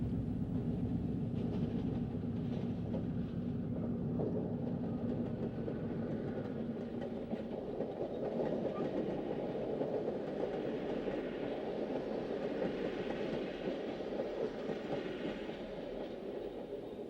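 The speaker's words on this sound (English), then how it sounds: "An EMD E8 and an Alco PA, both in new colors, slowly pull the Cannonball through Delray Junction." An EMD E8 and an Alco PA diesel pair slowly haul the Cannonball passenger train through Delray Junction, a steady engine rumble with rolling wheel clatter, constant and moderately near throughout.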